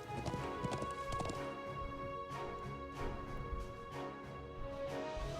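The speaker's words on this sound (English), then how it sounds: "Shouldn't take us too long if we dash on our horse." A horse gallops in the Trails of Cold Steel video game, its hooves beating in a quick, steady clip-clop rhythm over a continuous musical backdrop, fairly close and even in loudness throughout.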